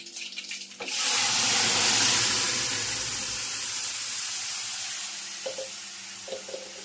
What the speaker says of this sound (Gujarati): વઘાર